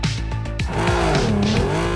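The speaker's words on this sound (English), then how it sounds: "Here comes a sharp curve. Let's try to drift." Loud tire squeal and screeching skid as a car drifts around a sharp curve in the mobile racing game Ace Racer, engine revving underneath with wavering pitch, close and continuous.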